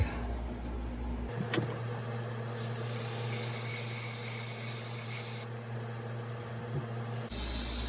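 Brake cleaner sprayed from a can onto the cylinder of a STIHL MS362 chainsaw during honing: a loud continuous hiss in long bursts with short pauses, close by, no talking.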